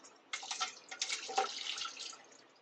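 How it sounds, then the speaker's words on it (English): Spiced cranberry syrup with cloves and cinnamon stick straining through a colander into a pot, a soft close trickling and splashing pour that fades out after about two seconds. "now I'm going to strain it through a colander, and the syrup's going to go down into another pot"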